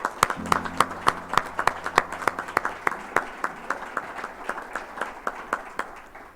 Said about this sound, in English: Let's give a round of applause for the Moors and our PAO that put this together.